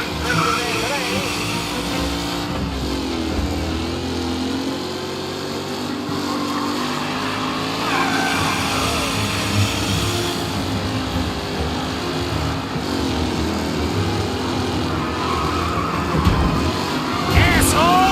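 Race cars on the Lost Heaven Circuit in a driving game crowd into the first turn, engines droning steadily with tire squeal and skids, while a voice talks over the racing.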